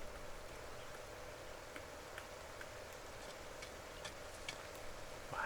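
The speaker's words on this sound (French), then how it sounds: "Oh, de la pluie." Steady rain in a solarpunk farming video game, a constant soft hiss dotted with faint ticking drops, with no voices.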